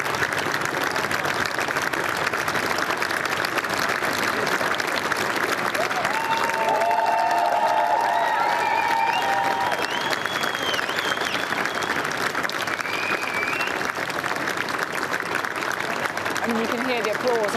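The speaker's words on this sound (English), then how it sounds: "can hear the applause on the street still continuing" Crowd applause out on a London street during a change of prime minister, a steady distant roar of clapping and cheering running throughout beneath a news commentator's voice.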